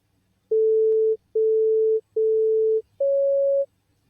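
Pitch test tones for a tone-deafness check heard through a cochlear implant: four steady electronic beeps, three at the same pitch and the last one slightly higher, each about half a second long with short gaps between them.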